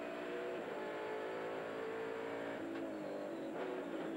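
A touring car engine howls on the Symmons Plains race track during a 1996 Australian Touring Car Championship round, a continuous high-revving drone that shifts pitch slightly as the car comes out of a corner.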